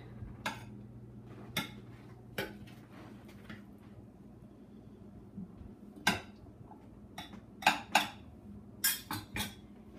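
Serving utensils clink against dishes while Azerbaijani salad is scooped, a series of sharp, irregular metallic taps and knocks, fairly close over a quiet room hum.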